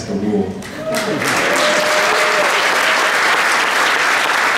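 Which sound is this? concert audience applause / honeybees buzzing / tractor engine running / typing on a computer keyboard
concert audience applause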